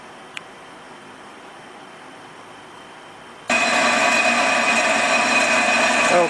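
A brake lathe machining a Willys Jeep CJ5 flywheel: a low background hum with a single small tick, then a sudden loud, steady broadband grinding whine as the cut begins and continues close by.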